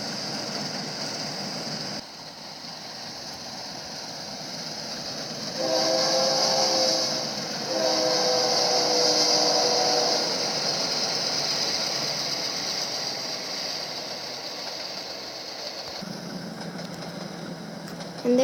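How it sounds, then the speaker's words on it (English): A long autorack freight train of 219 cars, with intermodal cars at the back, rumbles steadily past near Santa Fe Springs, California, its horn sounding in two strong blasts partway through. "They were passing by the 219-car-long autorat train, which had some intermodals at the back."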